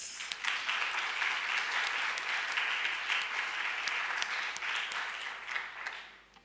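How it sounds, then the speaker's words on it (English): A lecture audience at an International Studies Center anniversary gives warm applause, sustained even clapping that tapers off in the final second. "let's give the center and everybody a warm applause"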